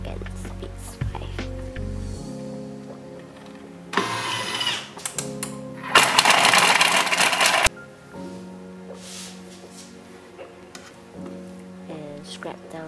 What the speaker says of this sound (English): Put in the garlic. Chop for 5 seconds.